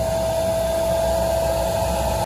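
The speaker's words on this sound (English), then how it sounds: "The motor was loud. This thing's loud as hell." An NBC air filtration system motor for a bomb shelter blows air with a steady, loud whooshing roar and a constant hum like a blow dryer, unbroken and close.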